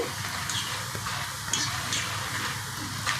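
Masala peanuts frying in a pan on a medium flame give a steady close sizzle with soft crackles and occasional stirring scrapes, continuous throughout and free of talk.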